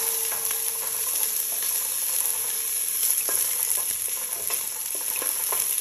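Chopped onion sizzles in hot olive oil in a pot. The frying is a steady, close hiss, with scattered crackles and the scrape of stirring.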